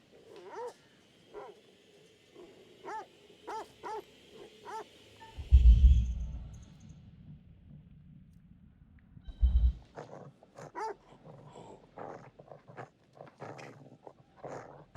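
Small dog in the video game The Devil in Me barking a run of quick yips close by, then two deep thuds after a pause, followed by more scattered barks and rustling game ambience.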